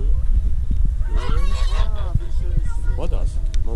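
Geese honking repeatedly at a small farmyard petting zoo, several nasal calls overlapping at close range with ambient outdoor noise and occasional speech in the background.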